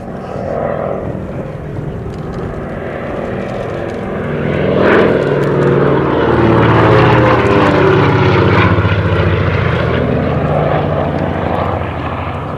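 A Lockheed 12A Electra Junior twin-propeller aircraft at an airshow, a loud, sustained engine drone that swells as it passes nearby, then holds steady with no voices.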